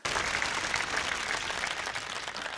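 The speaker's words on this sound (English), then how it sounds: "Let's give him another round of applause" Steady applause rises sharply and carries on evenly after a poet's performance at an open mic night, with the crowd clapping at a moderate level.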